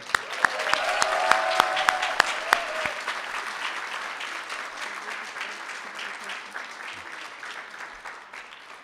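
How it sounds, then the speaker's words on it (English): Sustained applause from a graduation ceremony audience greeting a graduate, loudest early on with a few sharp individual claps standing out before gradually tapering off toward the end. "Let's now grant an applause for the first graduate of this evening, Anna Livia Sekeli."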